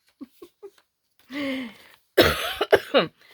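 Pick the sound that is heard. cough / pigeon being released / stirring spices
cough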